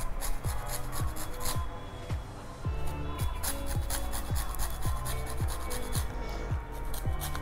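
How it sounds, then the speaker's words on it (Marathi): Lemon peel being grated for zest, a steady rhythmic scraping repeated in quick strokes, close and fairly soft. "हे आपण अशी लिंबाची साल किसून टाकली"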